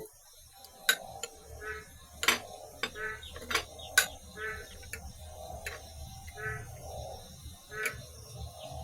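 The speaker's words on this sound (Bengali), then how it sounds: "জল মিশিয়ে পেস্ট বানিয়ে নিলাম" A spoon works water into a spice paste in a bowl, giving a steady run of sharp clinks and scrapes against the dish, fairly close and moderately loud, with some quieter rustling between the taps.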